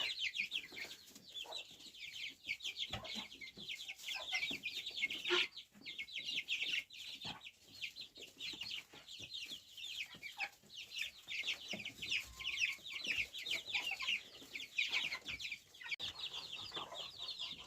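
Bantam and other chickens clucking and chattering steadily at a distance, a continuous flock murmur with occasional sharper calls, fairly faint.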